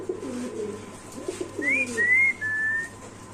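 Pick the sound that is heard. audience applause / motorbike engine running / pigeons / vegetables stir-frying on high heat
pigeons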